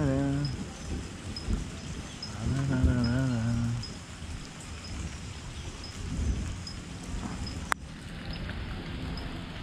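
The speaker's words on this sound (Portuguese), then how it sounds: "Chuvinha, chuvinha, chuvinha." Rain falls steadily on a farm fishing pond, a constant hiss with distant rumbling, while a voice talks over it.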